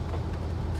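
A truck engine fitted with an Edelbrock carburetor idles smoothly at a stoplight, giving a steady, even low rumble with no stumble or stutter, close and continuous.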